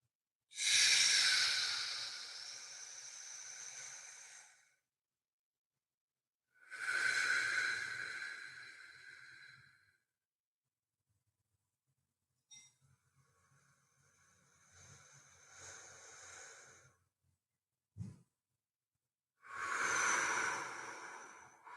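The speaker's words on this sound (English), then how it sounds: "we're just doing 2 minutes of belly breathing" Slow belly breathing during a guided exercise for easing labor contractions, with long, loud, airy inhales and exhales repeated in a steady, unhurried rhythm and close quiet pauses between breaths.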